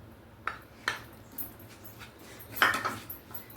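A spoon scrapes and clinks against a pan while curd is stirred into a masala curry, with a few sharp metallic taps spaced apart and faint kitchen background between them.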